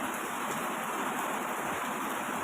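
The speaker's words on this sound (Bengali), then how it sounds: "প্রচণ্ড বৃষ্টি, বৃষ্টির আওয়াজটা নিয়েই আমি তুলছি ভিডিওটা।" Heavy rain pours down outside a hotel in Darjeeling, a dense, even hiss that fills the whole moment without a break, steady and fairly close, with no voices.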